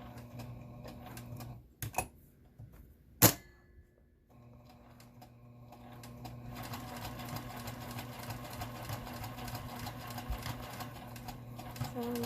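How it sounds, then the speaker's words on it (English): A couple of sharp knocks, then a sewing machine starts stitching heavy fabric for a hat and runs steadily with a rapid mechanical whir and clatter, growing slightly louder. "Do a test run on your sewing machine to see if it's not going to bog down"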